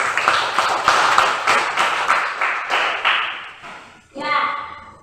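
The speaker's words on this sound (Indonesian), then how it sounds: "Bagus, tepuk tangan." Classroom students clap together in a dense, rhythmic burst of hand claps that fades after about four seconds, followed by a teacher's voice speaking.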